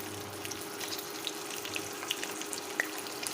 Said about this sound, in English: This is our hot oil and I'm going to fry this tofu.